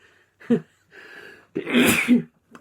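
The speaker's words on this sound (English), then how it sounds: "hang on, I'm gonna sneeze." A single close, sharp sneeze with a quick inhale before it, followed by a short breathy exhale; a brief breath sound comes at the very end.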